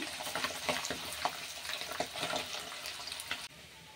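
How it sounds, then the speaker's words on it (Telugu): Chicken pieces frying in hot groundnut oil with a bubbly sizzle and a few stirring clinks, close but quiet, ending abruptly in a lower hiss. "ఇప్పుడు మనం ఈ చికెన్ ఇందులో వేసుకొని మంచి కలర్ వచ్చే వరకు ఫ్రై చేసుకోవాలి"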